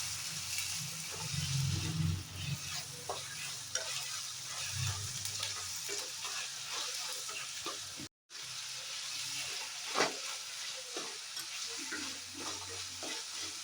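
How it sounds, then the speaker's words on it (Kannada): Tomatoes fry in a pan for flattened rice chitranna, a soft steady sizzle with repeated stirring scrapes and clicks of a spoon, briefly cut out once midway; no one talks. "ಟೊಮೊಟೊ ಹಾಕ್ಕೊಂಡು ಚೆನ್ನಾಗಿ ಫ್ರೈ ಮಾಡ್ಕೊಳ್ಳಿ."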